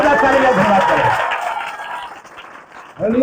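A church congregation applauds during a Good Friday sermon, a dense burst of clapping that fades over a couple of seconds before a voice returns.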